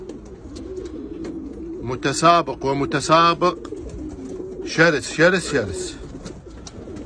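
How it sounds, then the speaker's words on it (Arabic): Racing pigeons bred from a German champion's line coo in a few loud, close bursts, with someone talking in Arabic between and over them. "هذني أربع حمامات إن شاء الله راح يجنك، طيرتين وفحلين"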